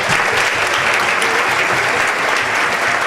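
Loud, dense applause from a crowd for children at a church festival Eucharist, a continuous roar of clapping with no pauses.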